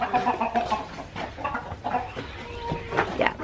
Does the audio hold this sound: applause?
no